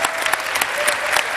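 Steady applause from a conference audience at a hacker congress talk on hackerspaces, dense and continuous clapping throughout with no voices over it.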